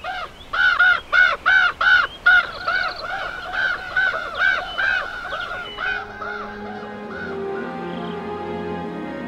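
Common ravens in the mountains of the Salzach valley give a loud series of hoarse, rhythmic croaking calls, about a dozen in quick succession, then quieter, looser calls trailing off over faint background noise.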